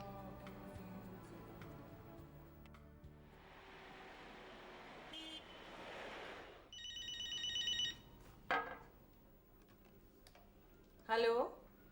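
A telephone rings indoors with a single bright, warbling burst lasting about a second, set among quiet room noise and a few other clicks and knocks.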